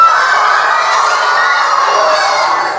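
A classroom of schoolchildren imitating the call of a koel together, a loud, continuous chorus of shrill voiced cries lasting a few seconds, with no talk between them.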